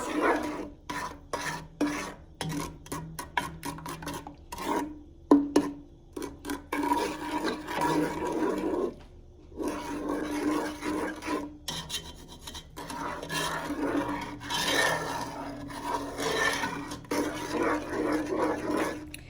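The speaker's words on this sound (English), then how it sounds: "Just keep mixing, try to get all of the cocoa and the sugar all mixed in there so that there aren't any lumps." Cocoa and sugar being mixed by hand in a bowl, giving repeated close rasping, rubbing strokes in uneven bursts with brief pauses, continuing for a long stretch without talking.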